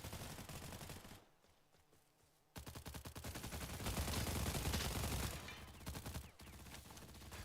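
Gunfire in the online shooter Stalcraft: sustained bursts of rapid automatic shots, fairly near and loud, that break off briefly and then return in a longer, denser volley.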